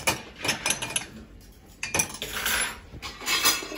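Clean drinking glasses are put away, clinking and knocking against each other in a kitchen, several sharp glassy chinks in irregular bursts with quiet gaps between.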